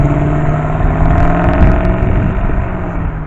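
A powerful V8 car engine rumbles loudly and steadily, with a deep throaty tone and slight surges as it revs, at a cars and coffee event.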